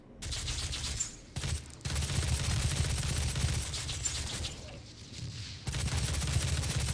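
Rapid weapon fire in Doom, from a heavy assault rifle and rockets, comes in loud sustained bursts with a booming low rumble, broken by brief pauses between volleys.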